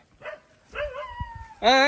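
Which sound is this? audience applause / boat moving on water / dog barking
dog barking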